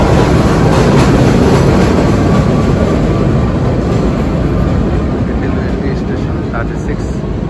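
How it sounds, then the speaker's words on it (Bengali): A New York subway train near the 36th Avenue station in Astoria, Queens, producing a loud, steady rumble and roar that fills the whole stretch with constant rail noise. "এই ট্রেনে আমি আসলাম"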